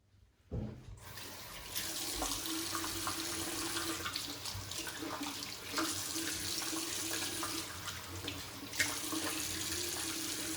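A faucet runs water steadily for about ten seconds to wet shaving lather, a continuous close splashing stream that starts abruptly after a brief quiet moment.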